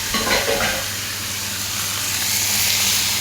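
Liver and kidneys hit a hot pan and fry with a strong, steady sizzle and hiss, a brief stirring clatter at the start, then continuous crackling close up with no talking.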